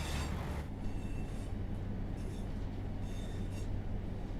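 Pacer railbus running in Train Sim World 5, its suspension giving a bouncy ride: a steady loud rumble of wheels and body noise, with faint intermittent squeals and rattles over the track, continuous throughout without talk.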